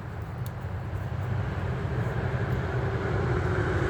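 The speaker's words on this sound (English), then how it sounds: "We're out here by the highway, as you can see and hear." Steady highway traffic rolls past at dusk near a roadside camp, a continuous broad roar of passing vehicles that builds slightly louder over a few seconds, with no talking.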